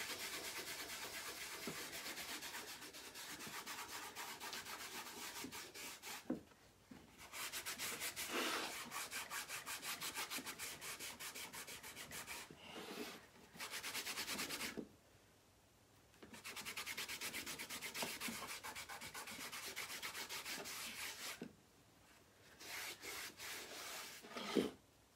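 A painted wood surface is rubbed to lighten its color, giving a steady rough back-and-forth scrubbing with a brisk rhythm. It runs close and alone, broken by a few short pauses.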